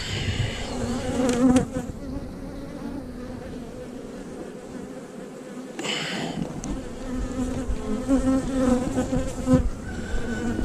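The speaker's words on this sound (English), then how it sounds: "full box of bees." A full hive box of honey bees hums with a dense, continuous buzz, close and steady, with individual bees whining past now and then.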